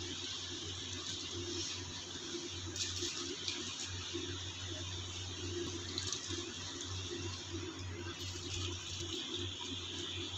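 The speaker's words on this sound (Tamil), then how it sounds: "நம்ம தண்ணி கொதிச்சு இப்போ அரிசி போடலாம்" Rice goes into a pot of boiling water for a vegetable biryani, giving a steady watery bubbling and hiss that runs evenly throughout without any talk.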